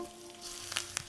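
A seasoned meat chop sears in a pan with a soft, steady sizzle and a couple of brief spits near the end of a very short stretch, no talking.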